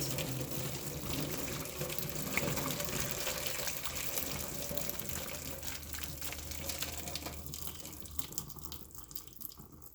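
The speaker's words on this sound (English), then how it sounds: "that's going to let the water go through but keep the noodles inside" Hot water from a pot of noodles pours through a strainer in a sink, a continuous rushing gush that tapers off near the end.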